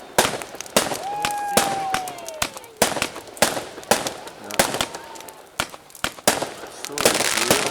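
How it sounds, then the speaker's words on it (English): Bonfire night fireworks over Whiting Bay on the Isle of Arran, with sharp bursts and crackling pops going off steadily in the sky, some whistling rising trails between them, and a voice speaking now and then. "Enormous, massive big white ones all bursting in the sky now."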